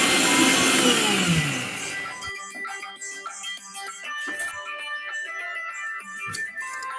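An electric mixer jar grinding soaked mustard seeds, poppy seeds and green chillies with a little water, a loud whirring roar for about two seconds that cuts off, followed by quieter clinks and handling sounds.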